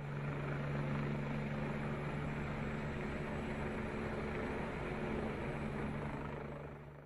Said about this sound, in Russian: Для эвакуации пассажиров власти кантона направили вертолеты.